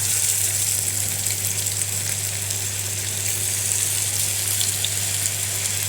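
Fish frying in a pan of oil, a steady loud sizzle with crackling spatter that runs unbroken and close throughout, with no talking.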